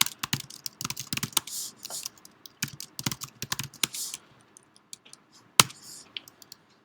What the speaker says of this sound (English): I'm typing it down here.